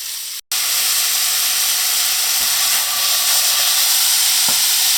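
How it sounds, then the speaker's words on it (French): Rhubarb and sugar cooking in hot butter in a pan, a steady broad sizzle that holds loud and even throughout, briefly cut near the start, with a couple of faint clicks of a utensil. "La rhubarbe, poêle, un peu de beurre à fond. Beurre chaud. Rhubarbe, sucre."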